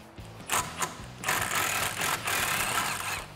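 Ratcheting socket wrench loosening 13 mm bolts on a sway bar link during rear control arm work on a 1979-2004 Mustang, with short clicks at first, then a steady, close run of ratchet clatter.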